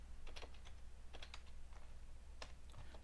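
Someone types a shell command on a computer keyboard, with bursts of quick, light key clicks in short irregular clusters and pauses, close and fairly quiet, with no talking.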